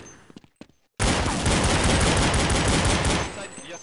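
Gunfire in Counter-Strike zombie mode on the dust2x2 map. A dense, loud burst of rapid automatic fire starts suddenly after a second of quieter clicks and lasts over two seconds before it tapers off.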